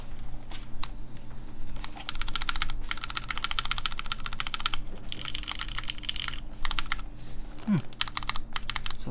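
A mechanical keyboard with MX Red switches is typed on in rapid bursts of clicks and clacks with brief pauses, close up over a constant low hum.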